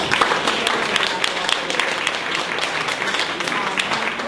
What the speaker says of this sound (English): just one more round of applause for Bud